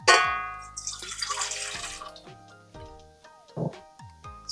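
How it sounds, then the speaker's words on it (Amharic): Lukewarm water poured from a container into a stand mixer bowl for homemade pizza dough, a short splashing pour near the start that fades, with melodic background music continuing throughout. "ለብ ያለ ውሃችንን እንጨምራለን"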